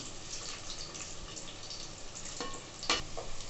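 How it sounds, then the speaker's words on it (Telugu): Onions and whole spices frying in ghee in a pan, a steady close sizzle with light stirring scrapes and a brief louder crackle near the end, no talk. "ఫస్ట్ ఆనియన్స్ని వేసుకుందాం. నెక్స్ట్ ఈ హోల్ స్పైసెస్ అన్నీ వేసుకుందాం."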